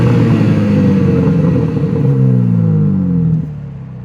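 A 2025 BMW M4 Competition xDrive coupe launches hard, its exhaust roaring loud and close with a deep rising engine note through several gear pulls before easing off near the end.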